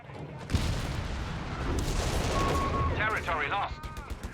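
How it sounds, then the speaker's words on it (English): Whizbang rocket artillery barrage in Company of Heroes 3, a sharp blast followed by a sustained roar of impacts and rumbling explosions, with whistling tones near the end and chatter mixed in. "Couple whiz bangs in the middle."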